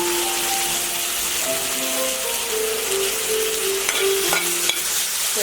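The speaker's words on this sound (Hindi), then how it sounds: "अच्छे से भून दूँगी." Tomatoes are stirred and sautéed in a pan: a loud, continuous close sizzle with scraping and tapping from the spoon moving through them.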